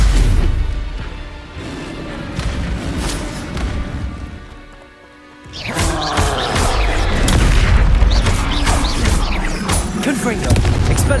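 Confringo fire spells explode repeatedly during a Hogwarts Legacy duel, loud booming blasts and crackling impacts that dip briefly to near quiet midway before another dense volley, with voices casting spells over the din.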